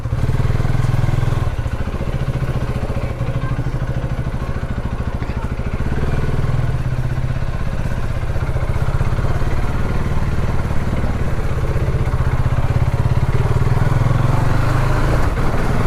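A KTM Duke 250 motorcycle engine drones loudly and steadily at close range throughout, a continuous mechanical rumble while riding, with no speech.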